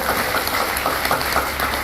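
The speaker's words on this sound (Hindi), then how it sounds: "जोरदार ताली" An audience claps loudly and steadily at a Hindi motivational talk, a dense, continuous patter of many hands for almost two seconds with no speech over it.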